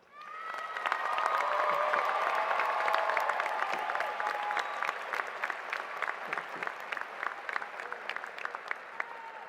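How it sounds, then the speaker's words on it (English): Audience applause fills a commencement ceremony hall, swelling quickly into a loud, sustained wash of clapping with a few cheers and shouts, then tapering slightly while staying dense throughout. "Let's give a roaring round of applause to all of our support."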